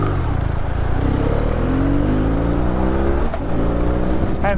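A BMW R nineT Urban GS motorcycle accelerates along a motorway, engine note climbing steadily through a gear under loud, continuous wind and road rush, with no voices.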